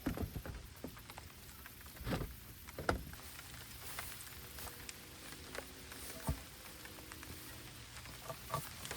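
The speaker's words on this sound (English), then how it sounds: "Tilt my bucket over so the rain doesn't exactly go straight into the bucket." Light rain falls outdoors around a tilted bucket, a soft, steady patter broken by scattered nearer drops and faint knocks on hard surfaces.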